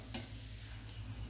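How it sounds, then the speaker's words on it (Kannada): Pooris deep-frying in hot oil to a crisp finish make a steady, close, even sizzle that holds without pause, with no voices. "ಈ ಥರ ಎಲ್ಲ ಎಲ್ಲ ಪೂರಿಯನ್ನು ಫ್ರೈ ಮಾಡಿ ತೆಗೆಯೋದು"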